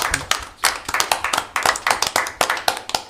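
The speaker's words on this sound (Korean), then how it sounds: "박수 쳐요. 박수." An audience at a Korean patriotic rally claps in a steady rhythmic beat, sharp repeated hand claps close and loud, nearly alone with little talk.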